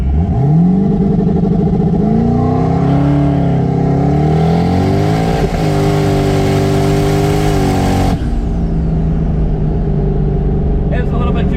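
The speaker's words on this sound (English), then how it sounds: "Just something so you can feel what a Transbrake launch feels in here, because it feels pretty cool." A twin-turbo 700 hp 8-rotor Mazda RX-7 launches off a transbrake, its engine roaring loud and close from inside the cabin, pitch climbing steeply through the run before backing off.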